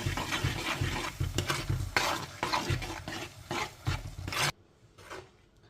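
Beetroot pachadi with curd is stirred in a pan, giving rhythmic, close scraping and sloshing strokes with a soft sizzle underneath, ending in a quieter pause.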